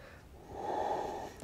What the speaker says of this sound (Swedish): Och så använder du ditt djupa härliga andetag.